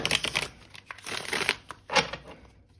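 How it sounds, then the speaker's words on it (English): Crisp crackling and riffling bursts come in several quick rounds, close by with no voices, like cards being shuffled by hand. "I'll give the deck a few more shuffles."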